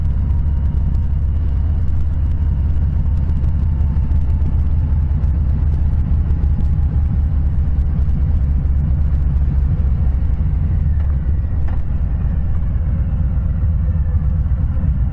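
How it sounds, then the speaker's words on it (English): Steady loud low rumble of road and engine noise while riding a Harley-Davidson Softail Slim motorcycle, with passing vehicles blending into the continuous drone; no speech. "Surprisingly significant number of vehicles out here"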